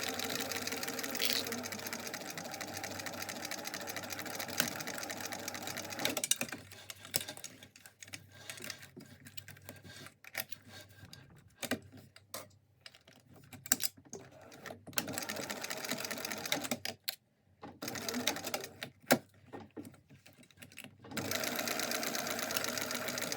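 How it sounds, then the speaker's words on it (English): A sewing machine stitches across a backpack's zip tape in loud, fast continuous runs, stopping and restarting several times with short mechanical pauses between bursts. "I'm just going to sew across here and then I'm going to skip over and sew across here."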